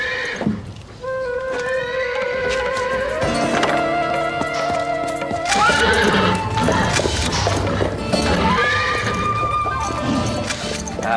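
A horse whinnies loudly and repeatedly over the sound of clip-clopping hooves, with a busy, layered background of harmonic tones throughout.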